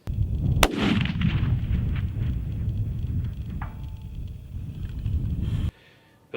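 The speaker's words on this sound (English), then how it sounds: "I'll put a video of hitting a steel target at 700 yards right here, and I'm just going to go ahead and play that now" A rifle fired at long range toward a steel target 700 yards away gives a single sharp, loud report followed by a rolling echo and outdoor rumble, with a faint later tap.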